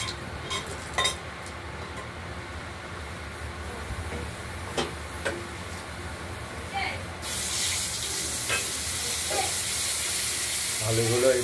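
Potatoes frying in hot spiced oil tempering, a low steady sizzle with occasional clinks of stirring, swelling louder and hissier in the second half.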